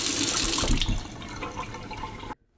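Tap water runs steadily over freshly cleaned largemouth bass being rinsed in a sink, a close, even splashing rush that cuts off abruptly near the end.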